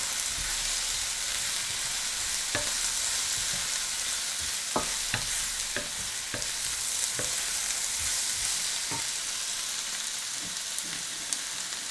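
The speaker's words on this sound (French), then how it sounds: "on fait revenir les oignons, l'ail, puis je vais rajouter le gingembre là" Onions, garlic and ginger frying in a pan for rougail saucisse, a continuous dense sizzle with occasional scraping stirs and clicks of the utensil, close up and without talking.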